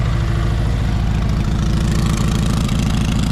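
A 1965 Cushman Truckster with a custom dual exhaust idles with a steady, throaty exhaust rumble and a regular low pulse, close and continuous throughout.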